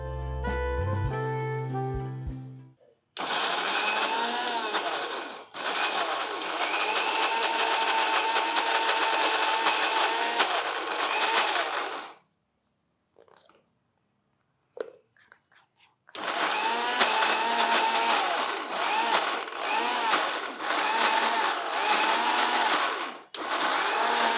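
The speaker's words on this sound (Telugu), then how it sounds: "కొంచెం చల్లారనిచ్చి గ్రైండ్ చేద్దాం" A mixer grinder blends cooled, cooked soup vegetables into a creamy purée for a winter soup, roaring loudly in long continuous runs separated by short pauses and a near-silent stop.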